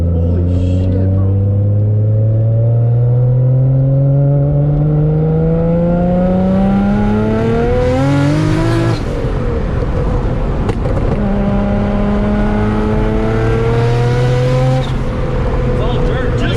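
A Datsun 240Z powered by a Nissan Skyline R34 GT-R engine making 630 whp, heard from inside the car as it revs hard through rising gear pulls with a shift in between, loud and close, under excited talk.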